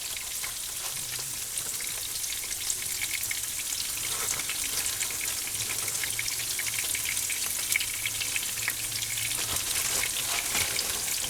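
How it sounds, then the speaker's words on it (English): Carrots browning with a spoonful of sugar sizzle steadily in a hot pan, a dense, crackling fry that stays close and even throughout with no voices over it. "carrots are browning, so I'm going to add about a tablespoon of sugar"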